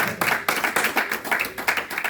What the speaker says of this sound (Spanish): Dale un aplauso al pastor de los pastores.